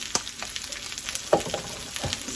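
Potatoes frying in oil in a pan with a spoonful of extra oil stirred in, giving a soft, steady sizzle with a few scrapes and stirring knocks close by, no talking.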